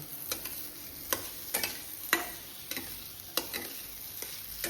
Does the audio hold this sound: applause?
no